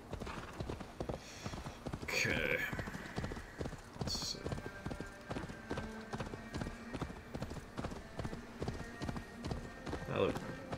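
Horse hooves clip-clop steadily on the ground in Assassin's Creed Odyssey, a brisk rhythmic gait close by with a brief whinny and other game sounds, while someone speaks a few words over it.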